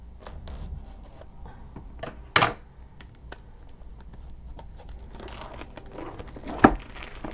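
Cardboard box for a DJI Osmo Action camera being opened by hand nearby, with soft crinkling, scratchy handling, and two sharp tearing rips of tape or packaging, no speech.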